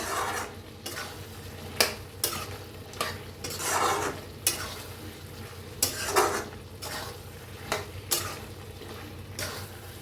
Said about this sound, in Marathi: ह्याला हलवून देऊया आणि एकदा सगळं मिक्स करूया